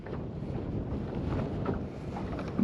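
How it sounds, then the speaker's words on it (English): Strong wind buffets the microphone on a fishing boat, a continuous low roaring rumble with no pauses throughout. "This wind's brutal."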